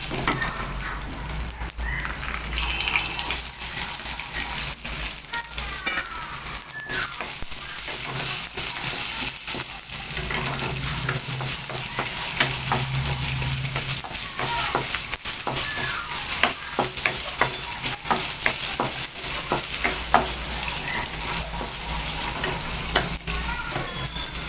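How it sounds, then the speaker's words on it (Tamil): Onion, dried red chillies, curry leaves and urad dal sizzle steadily in hot oil for a South Indian Chettinad banana flower stir-fry, a continuous close crackle with occasional stirring scrapes and no talk. "கருவேப்பிலை, உளுந்து லைட்டாக நிறம் மாறினதும் வெங்காயம் வரமிளகாய் போட்டுருங்க."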